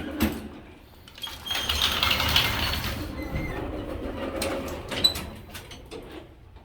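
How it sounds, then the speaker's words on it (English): Vintage Otis freight elevator gate doors in a university building slide shut with a rolling metallic rumble and rattling clanks, ending in a sharp latch thud, loud and close with no talking. "See, I closed both doors."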